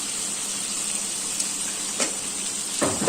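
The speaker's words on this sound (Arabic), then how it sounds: "ونسيبها بقى تغلي" Kofta in tomato sauce with potatoes simmers in a pot, giving off a steady, close bubbling hiss that holds evenly throughout, with a few faint clinks and a light knock near the end.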